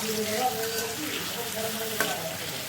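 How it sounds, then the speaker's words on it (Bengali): Fish rubbed with salt and turmeric fries in oil in a wok, a continuous close hiss and crackle with faint bubbling tones and a single sharp tap near the end, and no voices. "আমি অন্যদিকে মাছটাকে লবণ হলুদ মাখিয়ে অন্য একটা কড়াইয়ে ভেজে নিচ্ছি।"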